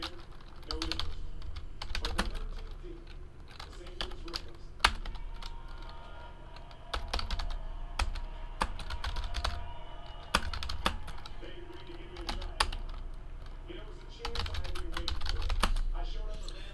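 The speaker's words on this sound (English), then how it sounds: "Let's type in what we got here." Someone types on a computer keyboard in repeated runs of brisk, crisp keystrokes, close and clear over a quiet low background, pausing briefly between bursts.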